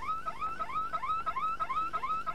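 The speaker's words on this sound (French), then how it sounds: "Alarme électronique" An electronic burglar alarm in a film scene wails in a fast, repeating warble of rising electronic tones. It is steady and moderately loud, with no voices.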